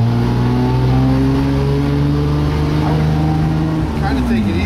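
A restored bus engine pulls away under load, a loud close rumble with rising and falling pitch as the gears shift, while people talk over it.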